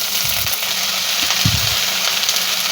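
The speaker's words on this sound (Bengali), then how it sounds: "এবার আমি পালং শাকগুলো ভালো করে ধুয়ে কেটে একদম বেগুন সহ দিয়ে দিচ্ছি" Chopped spinach drops into a pan of frying eggplant, and the oil gives a loud, steady sizzle. A few low thuds and stirring bumps sound close up, with no voices.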